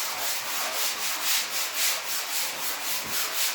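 A sponge sands a patched drywall crack in steady back-and-forth strokes, a close, loud, even scratchy rubbing with a regular rhythm of roughly three strokes per second and no talking.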